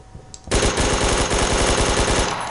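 AK-47 automatic fire in the video game Phantom Forces: after a quiet half second, a loud, rapid, sustained burst of evenly spaced shots runs for about two seconds, close and alone.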